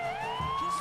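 A wailing siren from a wrestling entrance theme rises steadily in pitch as a single sweeping tone, fairly faint and brief, under a murky background.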